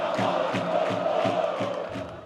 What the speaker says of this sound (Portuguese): A torcida do Peixe protesta